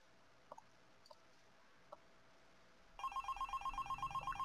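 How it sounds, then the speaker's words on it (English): Repeating electronic ringing tone of an online call, starting after a few soft clicks and pulsing in a steady rapid rhythm, moderately loud and alone. "Online ringing noises."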